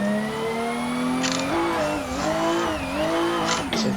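A Toyota Supra on a track, its engine climbing and dropping through revs with clear harmonic sweeps while tires squeal and skid through corners, loud and close, without any talking.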